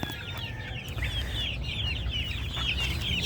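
Gamefowl broodcocks rest in farm pens, giving soft, scattered clucks and chatter over a steady low outdoor hum, fairly faint and distant with no speech.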